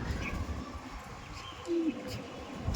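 Andhra red-eyed pigeons in a loft give soft, low cooing calls, one clearer coo standing out midway over a faint, busy background, with no talk.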